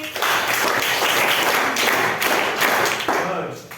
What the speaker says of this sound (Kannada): ಅವಳೊಂದು ಚಪ್ಪಾಳೆ ಹಾಕಿ